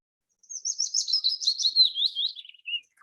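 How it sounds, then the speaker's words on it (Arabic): Sparrow chirping sound effect, a rapid continuous run of high, bright tweets for about two and a half seconds, clean and close with no other sound. "أضفت صوت العصفور"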